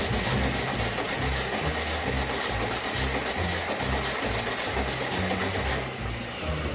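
A 1962 Maserati engine with no spark is cranked over and over without firing, giving a steady, loud, rhythmic churning chug that runs nearly unbroken before easing near the end.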